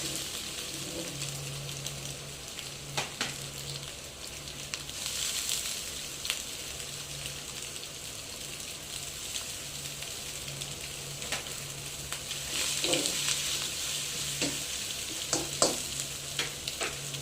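Pad Thai noodles sizzle and crackle steadily in a hot pan while being stirred, with occasional scraping clatters over the constant frying hiss.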